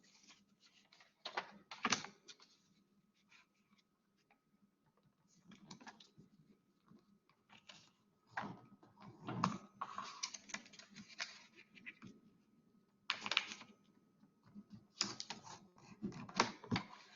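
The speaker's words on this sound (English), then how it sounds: "So I'm going to fold the rest of the corners just like that." Origami paper corners being folded on a flat table, producing soft crinkles, taps and creasing bursts that come in clusters with quiet gaps, close and fairly faint.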